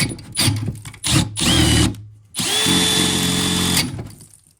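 A power drill whirs in several short bursts, then runs in one longer steady spin, with brief pauses between, close up and loud, drilling holes for a tire inflation system.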